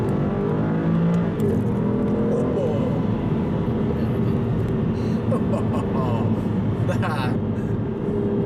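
An Aston Martin Virage engine revs and accelerates steadily, a loud continuous roar with rising pitch and a few gear shifts, close by and filling the whole stretch.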